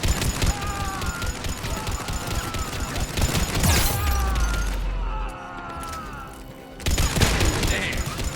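Automatic turret gunfire in the sci-fi shooter Mass Effect 3 on Priority Sur'Kesh, loud rapid fusillades with booming impacts, a brief lull near the end, then the volleys return.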